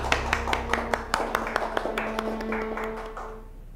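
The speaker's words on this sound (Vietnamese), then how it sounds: "một tràng pháo tay chào mừng vị khách quý" A small indoor group claps to welcome a guest, a run of about a dozen sharp, evenly spaced claps that gradually soften and thin out over a few seconds, with a faint steady hum beneath.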